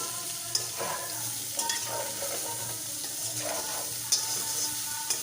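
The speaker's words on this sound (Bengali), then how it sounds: "বেগুন আর আলুগুলো রেখেছিলাম কেটে ওগুলো সবটা দিয়ে দিলাম ভালো করে বেগুনগুলো আলুগুলোর গায়ে তেলটা সম্পূর্ণ মাখিয়ে নেব" Eggplant and potato pieces frying in oil for a fish bati chorchori, a steady close sizzle under several sharp scrapes and clanks of a spoon stirring the pan, with no talk.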